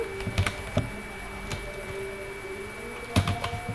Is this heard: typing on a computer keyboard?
yes